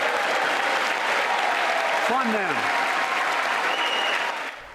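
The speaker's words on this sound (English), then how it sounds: "there you can see a number of members, including Republicans, up there applauding" Members of Congress, Republicans among them, applaud during the President's State of the Union address, a dense sustained wave of clapping that fills the chamber and carries a brief spoken line over it.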